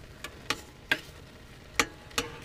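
Oatmeal with raisins and cinnamon stirred in a pan, a few soft scraping strokes spaced irregularly over a faint background hiss, quiet and close.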